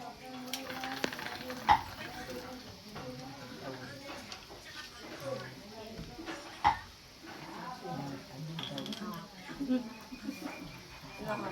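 A spicy bamboo shoot stir-fry tossed in a pan, heard as a quiet sizzle with clattering scrapes and knocks of a utensil, a few sharp clanks standing out, while people talk over it.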